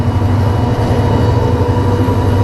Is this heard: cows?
no